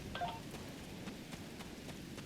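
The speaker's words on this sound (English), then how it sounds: "Wow, rain on Ryza." Rain in the video game Star Trek Online, a soft, steady wash of falling drops with a faint low rumble beneath and a brief chirp near the start, quiet and uninterrupted.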